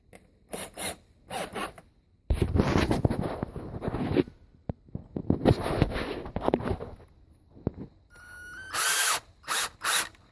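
A power drill bores out a broken exhaust manifold bolt with repeated bursts of grinding and whirring, some short and some sustained, close by and loud, with a high-pitched spin near the end.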